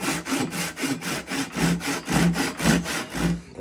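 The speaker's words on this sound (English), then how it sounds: "Take this little handsaw," A small handsaw cuts into wood in quick, even back-and-forth strokes, about three per second, close and loud with a rasping bite on each pass.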